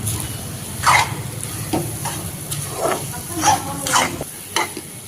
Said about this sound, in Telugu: ద్రాక్ష జీడిపప్పు వేసుకొని మిక్స్ చేసుకోవాలి ఇలా మిక్స్ చేసుకుని అంతా కలుపుకోవాలి